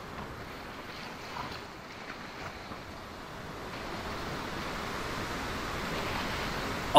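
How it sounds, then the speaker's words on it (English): Steady wind and rushing waves at sea in the sailing game Sailwind, a broad, even wash of noise that slowly swells louder toward the end, with no talking. "Oh, listen to that wind."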